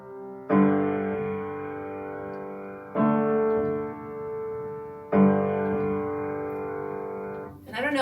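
Three piano chords ring out one after another, with the sustain pedal lifted just after each new chord is struck, so each chord overlaps briefly with the one before. The chords are clear and fairly loud, and someone begins speaking at the end.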